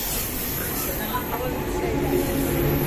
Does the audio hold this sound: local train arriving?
yes